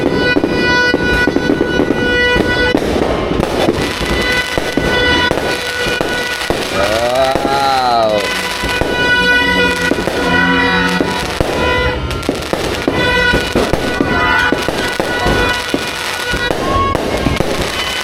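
New Year fireworks over Malolos, a dense, loud, continuous barrage of booms and crackling bursts with overlapping whistles rising and falling, sustained throughout.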